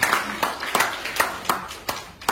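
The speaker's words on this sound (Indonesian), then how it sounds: "Tepuk tangan bagi Tuhan." A church congregation claps in worship at a brisk, fairly even rhythm, the bursts of applause ringing out loud and close in a reverberant hall before fading at the end.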